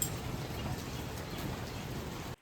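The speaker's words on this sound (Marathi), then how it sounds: "पाऊस कंटिन्यू 10 ते 12 दिवस कंटिन्यू चालू आहे" Steady monsoon rain falls continuously in a village after many days of downpour, a dense even hiss with soft patter, fairly close and unbroken until it cuts off abruptly.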